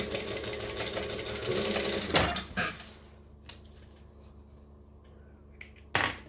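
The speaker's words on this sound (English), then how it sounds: "I'm just going to top stitch here" A sewing machine top stitches a fabric panel, running in a dense continuous whir for about two seconds, then stopping, followed by a few quiet clicks and handling knocks and a final short burst.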